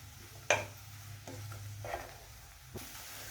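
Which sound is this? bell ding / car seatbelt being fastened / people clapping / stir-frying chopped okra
stir-frying chopped okra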